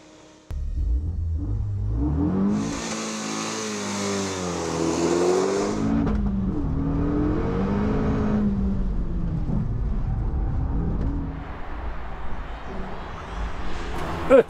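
A Renault Megane Trophy-R hot hatch accelerates hard nearby, engine revving up through rising pitch sweeps with a shift break, then pulling again to a sustained high drone that continues to the end, with no talk over it.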